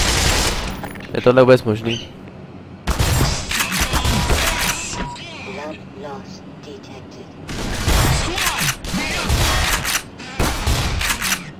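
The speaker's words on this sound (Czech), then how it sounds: "Jo, to je kulomet." Machine gun fire in Black Mesa comes in loud, sharp bursts of rapid shots separated by quieter gaps, with someone speaking briefly between the volleys.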